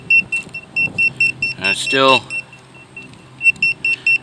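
Repeated short electronic beeps from a wire tracer pulse steadily in a high pitch, with a brief spoken word and some handling noise in between.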